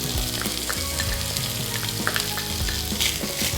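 Onions frying with bacon in a pan, a loud, close, continuous sizzle with crackling pops and a few stirring scrapes, no voices.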